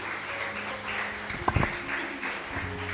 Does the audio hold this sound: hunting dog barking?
no